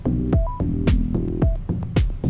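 A recording of analog music runs through the Airwindows Pockey low-bit plugin, with repeated strong percussive hits about every half second under sustained tonal notes and a faintly crunchy, slightly degraded texture.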